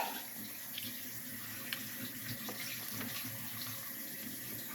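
Water runs steadily from a tap during washing, a continuous faint splashing hiss with no voices over it.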